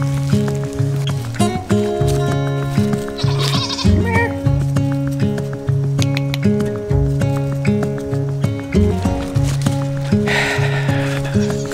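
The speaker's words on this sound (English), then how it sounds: "Goats do what goats want to do." Goats bleat loudly and close by in repeated, wavering calls that overlap one another throughout, with a few brief gaps between cries.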